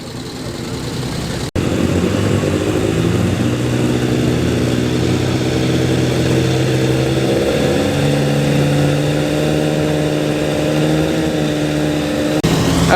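Vintage racing car at the Prescott hillclimb, its loud, steady engine note droning close by and almost continuously after a brief quiet start, with shifting harmonic tones as it revs and runs.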